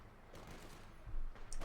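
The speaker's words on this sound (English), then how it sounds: "Shots being fired here." Gunfire in Company of Heroes 2 combat: scattered distant rifle and machine-gun bursts crackle over a busy battlefield rumble, growing louder toward the end.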